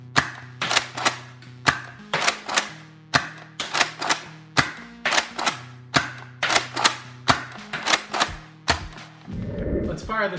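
A Nerf Retaliator blaster with a Stage 1 upgrade fires Raytheon foam darts in about twenty sharp, close, loud snaps at an uneven rapid rhythm, with a brief rattle of handling at the end.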